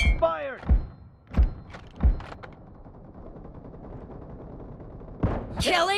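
Gunfire in the mobile game PUBG Mobile during an 8v8 arena training match: several loud single shots about half a second apart, followed by a swooping synthetic effect and more shots toward the end.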